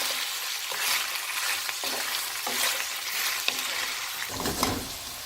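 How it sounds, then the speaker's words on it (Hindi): Okra (bhindi) frying on high heat in a pan, a continuous close sizzle broken by scraping stir strokes and a louder burst near the end. "हाई हीट पे रख के इनको फ्राई करना है"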